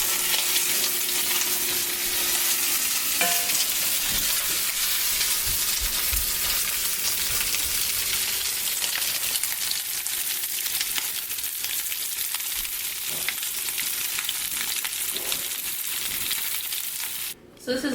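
Lump crab cake sizzling in a hot pan right after being flipped, a bright continuous frying crackle with a few light taps of a utensil and a soft scrape near the end.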